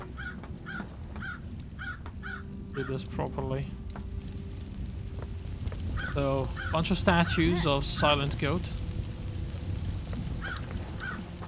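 Several crows caw repeatedly in the background in the video game Paradise Killer, harsh calls coming in clusters while a person talks over them.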